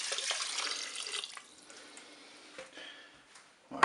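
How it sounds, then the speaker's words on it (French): Water pours from a tap over rice, chicken, mushrooms and lemon in a Cookeo multicooker, a steady splashing stream that fades to a light trickle before a brief clatter at the end, with no talking. "On va recouvrir bien, tous nos ingrédients avec de l'eau."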